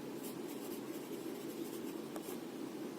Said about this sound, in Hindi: तो डी को हम इस तरह से डार्क लिखेंगे